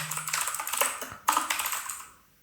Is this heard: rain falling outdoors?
no